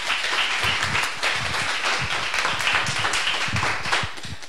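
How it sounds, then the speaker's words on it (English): A smaller audience claps for a speaker at a tech event for girls, producing a brisk, fairly close run of individual claps that continues evenly for several seconds. "big round of applause for Roopal."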